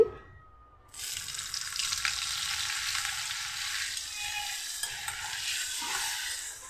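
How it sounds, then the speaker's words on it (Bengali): Butter melting into hot white oil in a wok, bursting into a steady, loud sizzle after a second of near quiet and holding on evenly to the end. "কড়াতে তেল দিয়ে দিয়েছি সাদা তেল তেলটার সাথে আমি কিছুটা বাটার দিয়ে দিচ্ছি"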